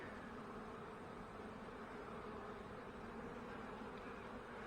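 Dense, steady buzzing of many honeybees at close range at hive box entrances, a continuous humming drone with no pauses.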